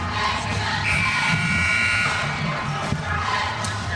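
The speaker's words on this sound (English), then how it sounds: "our Joplin Eagles cheer team is trying to hype up our Joplin Eagle girls." The Joplin Eagles cheer team rouses a noisy high school gym crowd at a girls basketball game against Neosho, steady shouting and cheering with a brief whistle-like tone in the mix.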